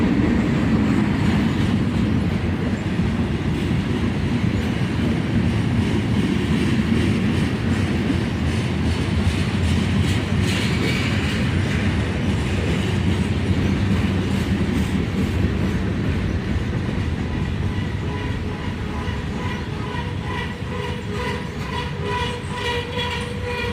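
Freight train with tank cars rolling loud and close past a siding near Carlisle, steady rumble and clatter of wagons on rails that eases and thins slightly toward the end as the train slows.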